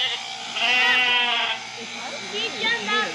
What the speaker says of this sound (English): It's a goat. It's a sheep.